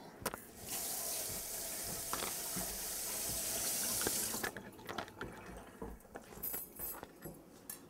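Water runs from a tap into a sink for rinsing, a steady close hiss for about four seconds, then stops and gives way to scattered small clicks and handling knocks.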